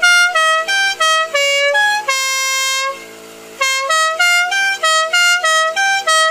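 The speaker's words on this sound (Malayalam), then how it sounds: "6-pipe സ്റ്റെബൽ ഹോൺ ചെയ്തിട്ടുണ്ട് ഇതിനകത്ത്." Six-pipe musical horn fitted to a Mahindra Thar blares a loud, close melodic sequence of bright tones, with short stepped notes, one long held chord and a lower sustained note before the tune resumes.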